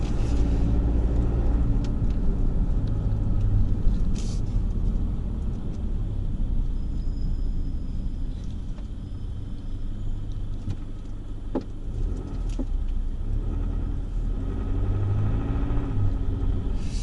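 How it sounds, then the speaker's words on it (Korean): A SsangYong Rexton Sports Khan runs on a test drive after a spring lift-up job, its engine a steady low rumble heard from inside the cabin with road noise and no talking. "확실히 엔진 소리가 약간 그 걸걸하게 하는 소리가 좀 예전하고 많이 틀려졌어요."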